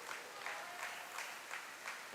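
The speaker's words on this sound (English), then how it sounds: "The St. Mary's fans begin the clap" St. Mary's fans at a high school varsity volleyball match clap in unison, a faint, distant, steady rhythmic clap repeating about every third of a second in a gym.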